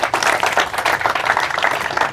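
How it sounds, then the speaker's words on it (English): A small audience at a mastermind event breaks into a dense, steady round of applause, with many hands clapping together at close range for about two seconds. "Give yourselves a round of applause real quick"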